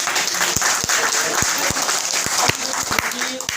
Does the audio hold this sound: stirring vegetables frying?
no